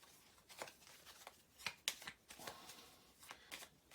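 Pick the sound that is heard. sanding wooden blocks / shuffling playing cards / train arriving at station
shuffling playing cards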